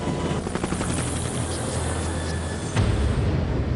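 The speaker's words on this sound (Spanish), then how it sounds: "Esperábamos ver aterrizar a los helicópteros" A helicopter flies close overhead with a loud, continuous rotor thrum and a deep, beating drone that swells slightly near the end.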